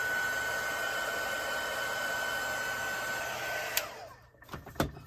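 A heat gun gives a steady, even hiss of blowing hot air while warming alcohol ink on a stainless steel tumbler. It cuts off near the end, leaving a couple of faint clicks and handling noises.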